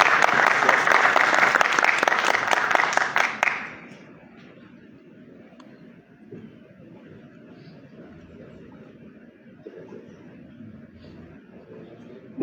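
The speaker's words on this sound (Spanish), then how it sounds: "Lo recibimos con un aplauso." A seated audience applauds to welcome a speaker at a civic talk on oversight committees in Medellín. The clapping is dense and lively for about three and a half seconds, then stops, leaving a quiet room hum.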